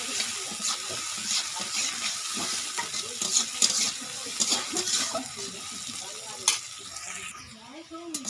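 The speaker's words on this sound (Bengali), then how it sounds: "আবারও ভালো করে নাড়িয়ে নিচ্ছি" Banana flower fritter curry being stirred in a pan at a village kitchen, with a steady soft sizzle of frying under repeated scraping and stirring strokes, continuous and close, while a voice talks over it.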